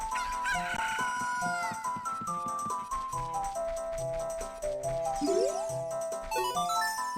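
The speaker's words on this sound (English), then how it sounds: "Kojiro made a blue chicken sound. He made blue chicken noises." A blue chicken in a video game crows and clucks in a rhythmic, bouncing tune of bright tones over a steady beat, with rising squawks near the end.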